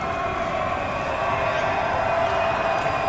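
Crowd noise at an Oregon Tech vs. Arizona Christian men's college basketball game: a steady, fairly loud wash of arena cheering and chatter that holds level throughout, with no single standout burst.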